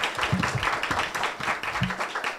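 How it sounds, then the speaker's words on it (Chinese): Audience applause thanks two panel guests at a theatre talk held at a local opera house: a dense, steady wash of many hands clapping, moderately loud and continuous throughout. "我们热烈的掌声谢谢今天两位的与谈者"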